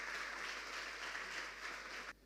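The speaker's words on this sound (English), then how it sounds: "Let's give them a round of applause." Faint, even applause from an audience at an inter-school technology competition fills about two seconds before breaking off abruptly.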